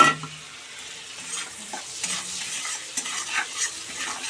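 Hilsa fish frying in mustard oil with salt, turmeric and chili powder, a low steady sizzle under repeated scraping and stirring strokes, with light knocks of a utensil against the pan.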